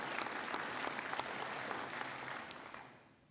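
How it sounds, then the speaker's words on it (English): Applause from the crowd at a 2021 Monticello senior graduation ceremony, a dense, steady wash of many clapping hands that holds strong before tapering off at the end. "let's give us a big round of applause"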